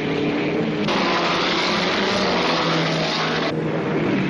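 A vintage Grand Prix racing car, number 7, roars past close by in a sustained loud engine blare, its pitch shifting as it goes by, with no talk heard.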